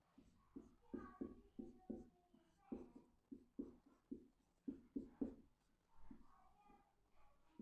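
Chalk or marker writing on a board during a chemistry lesson, a run of short tapping and scraping strokes in quick uneven bursts, faint and close with no talking.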